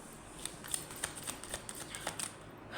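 Tarot cards being shuffled and drawn, a quick run of soft riffling snaps and flicks, close and quiet, with no other sound.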